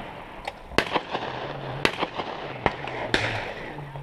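Shotgun blasts at an outdoor trap shoot, a series of sharp, fairly distant bangs spread irregularly over a few seconds above a low background hum.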